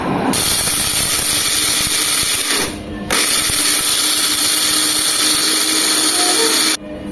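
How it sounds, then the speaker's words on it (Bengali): An electric blender grinds black peppercorns into powder, a loud, dense whirring and rattling that runs nearly nonstop with two brief stops. "গোলমরিচ গুঁড়ো দেখুন আমি ব্লেন্ড করে ফেলেছি।"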